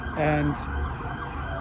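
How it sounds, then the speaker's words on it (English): An emergency vehicle siren wails briefly outside, a short rising tone heard over room ambience, with a voice starting to speak. "I apologize for that siren."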